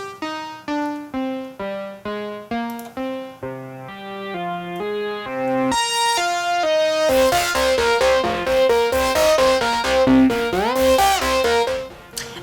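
A Sytrus synthesizer plays a melodic line of plucky notes, then shifts to a thicker, gritty, distorted tone with sustained, bending notes; no voices.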